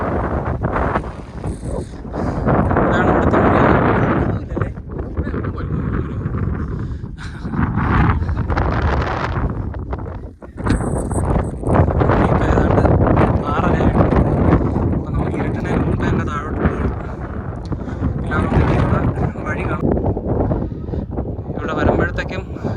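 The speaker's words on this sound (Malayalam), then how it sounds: "നല്ല കാറ്റുണ്ടല്ലേ നല്ല കാറ്റ്" Gusty wind at a wind farm near Aralvaimozhi rumbles and buffets the microphone throughout while people talk over it, the blasts rising and falling unevenly.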